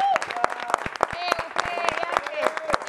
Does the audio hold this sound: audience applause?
yes